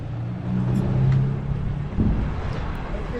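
A car driving past on a road during a trail race, a steady engine rumble rising and fading nearby, with a commentator's voice over it.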